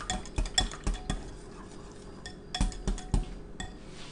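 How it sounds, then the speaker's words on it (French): A utensil mixes corn muffin batter in a bowl, making close, rhythmic clinks and scrapes in two bursts separated by a short pause, with no talk. "j'ai mélangé"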